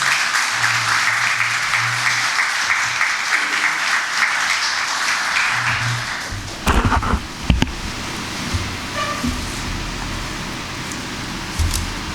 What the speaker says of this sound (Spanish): Con un aplauso, por favor.